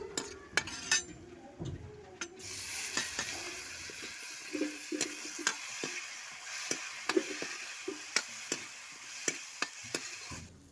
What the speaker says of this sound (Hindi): तो देखिए प्याज मैंने भून लिया है, और अब मैंने डाल दी हल्दी, और अब डालेंगे टमाटर